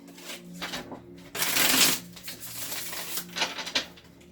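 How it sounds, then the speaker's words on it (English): Tarot cards being shuffled by hand, a run of soft papery riffles and flutters with a louder burst of shuffling in the middle, close up and with no talking. "Gonna go ahead and shuffle about 3 more times."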